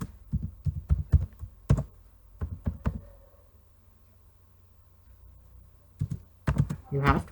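Keys on a computer keyboard struck in short irregular bursts of clacks, close and fairly crisp, separated by a quiet pause before a final quick flurry, as a password is entered.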